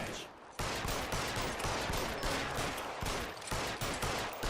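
Dense, rapid gunfire in the video game L.A. Noire fills the clip, a loud, sustained volley of overlapping shots after a brief quieter moment at the start.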